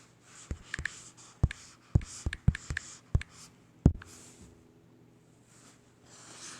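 Computer keyboard typing while entering patient responses in a clinical assessment program: a short run of sharp, distinct key clicks in an irregular rhythm, close and fairly quiet, with no talk.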